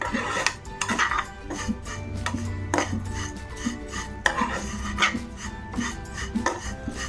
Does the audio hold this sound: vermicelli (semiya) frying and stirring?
yes